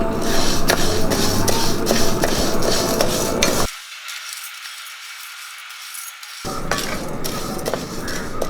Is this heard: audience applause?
no